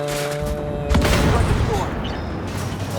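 Artillery fire in the Armored Warfare tank game lands as a heavy boom that breaks through a steady droning engine hum, followed by rumbling and crackling debris, loud and close.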